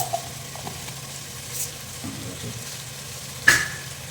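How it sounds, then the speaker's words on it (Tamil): Mustard seeds and urad dal sizzle softly in hot oil, a low steady frying hiss with faint clinks and a short sharp crackle near the end. "இதில் மஸ்டர்ட் போட்டுக்கிறேன், கடுகு உளுந்து 2 சேர்த்துருக்கு"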